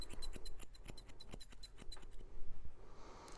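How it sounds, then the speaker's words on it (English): Scissors snip whiskers off an English cocker spaniel's face in quick, close, crisp cuts, about a dozen in steady rhythm before they stop. "So scissor those whiskers off."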